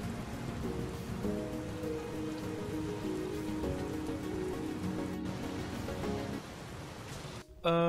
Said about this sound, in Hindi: अचानक से बारिश जो शुरू हो गई